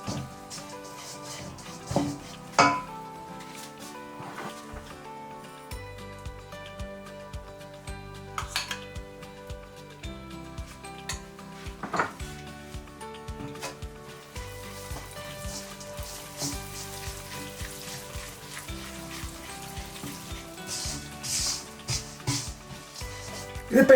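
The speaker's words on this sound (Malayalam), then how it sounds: "ഇതിപ്പോൾ ഏകദേശം നമ്മളിത് പാനിലേക്ക് ബേസൻ ഫ്ലോർ ഇട്ടിട്ട് ഏകദേശം ഒരു 10 മിനിറ്റോളം ആയിട്ടുണ്ട്. ഇളക്കി കൊടുത്തോണ്ടിരിക്കണേ." Besan flour roasting in ghee in a pan, stirred with a metal utensil that scrapes and clinks against the pan in an irregular run of knocks over a soft continuous sizzle, with no talking.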